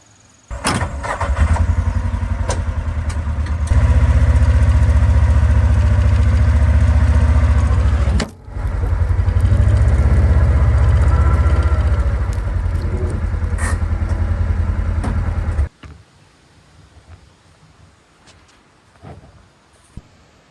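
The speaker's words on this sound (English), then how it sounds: "probably be smart and just back up this vehicle closer to the lumber" A vehicle engine runs loud and steady while backing up toward a lumber pile, with a brief dip in the middle before resuming, then cutting off to quiet near the end.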